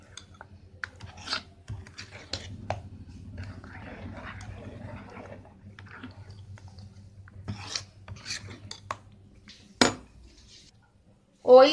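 Unniyappam batter made with rice flour is mixed with roasted coconut pieces in a bowl. A spoon gives intermittent scrapes, rubs and light clinks over a faint low hum, with a sharper knock near the end.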